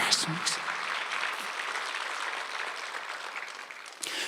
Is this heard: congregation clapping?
yes